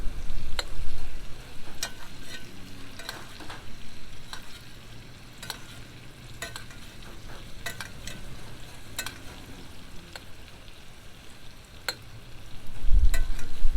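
Pork chops and hominy frying in grease in a cast iron skillet give a steady, close sizzle scattered with crackling pops throughout.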